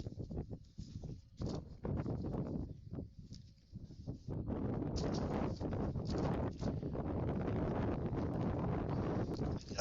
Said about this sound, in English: Gust of wind just threw everything on my table up here into disarray